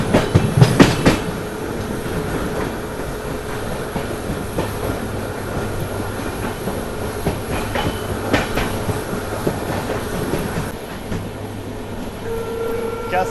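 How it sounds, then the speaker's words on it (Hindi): A twin diesel locomotive train stands at a platform at Hazur Sahib Nanded station, with a steady rumbling engine drone, some rail clanks and a brief louder knock near the start, heard at moderate distance. "साउंड आ रहा है डीजल लोकोमोटिव का"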